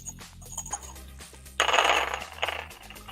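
Dice clattering on a table during a tabletop role-playing game, a short rattling burst of tumbling clicks that settles quickly, heard close with faint background sounds.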